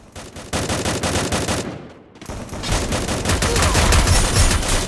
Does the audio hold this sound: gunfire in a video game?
yes